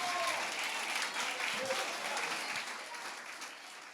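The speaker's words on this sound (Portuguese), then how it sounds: "aplauda o nome de Jesus o mais alto que você puder." A church congregation applauds loudly and steadily, a dense wash of many hands clapping that holds for a few seconds with no talk over it and fades slightly toward the end.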